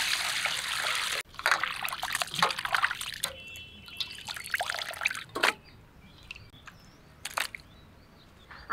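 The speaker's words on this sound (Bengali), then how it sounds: "মাংসগুলো এখান থেকেই ধুয়ে নিয়ে যাবো" Fresh mutton being rinsed with stored water: trickling, dribbling water and wet splashes come in uneven bursts, close by, with short pauses between pours.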